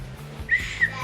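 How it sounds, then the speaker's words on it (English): Two short, shrill whistle blasts sound in quick succession, close and bright, over faint background noise. "A whistle, nice."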